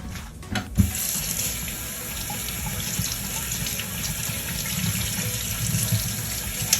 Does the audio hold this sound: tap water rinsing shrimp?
yes